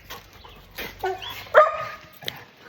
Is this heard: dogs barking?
yes